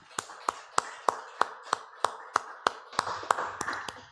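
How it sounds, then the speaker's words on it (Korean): About a dozen sharp, evenly spaced claps ring out one after another during a Sunday church worship service in Phnom Penh, close and crisp, with a faint murmur creeping in toward the end. "하나님께 영광의 박수를 드리겠습니다"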